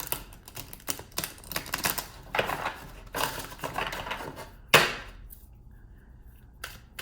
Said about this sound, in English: Another quick shuffle.